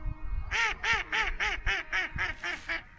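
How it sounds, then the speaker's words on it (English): Ducks quack loudly at a winter feeder fishing match, a steady series of about ten rhythmic, nasal calls in quick succession, close and clear over low background rumble. "That's ducks laughing."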